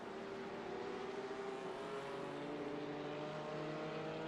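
A Porsche Cayman race car in a sim-racing game drones past at a distance, a faint, smooth, steady engine whine that swells slightly in the middle.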